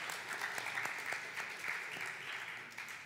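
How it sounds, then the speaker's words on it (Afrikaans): A church congregation at an evening service claps together in steady, sustained applause, a dense patter of many hands in a reverberant hall, loud and continuous for about three seconds. "Ja, ons kan hande klap."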